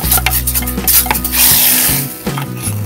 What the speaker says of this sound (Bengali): এটাকে হালকা করে নাড়িয়ে আমি এটাকে ছোঁক দিয়ে দিচ্ছি।